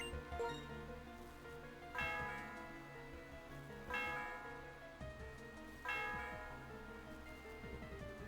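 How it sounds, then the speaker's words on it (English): A bell in the Pokémon Black 2 video game rings four times at steady two-second intervals, each strike bright and ringing before decaying, faint and alone over quiet background music. "Ring the bell."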